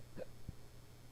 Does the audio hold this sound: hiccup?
yes